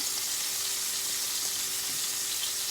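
Chicken pieces with skin sear in a hot pan for a slow cooker dish, giving a steady, even sizzle and crackle of frying throughout, close and fairly quiet with no talk.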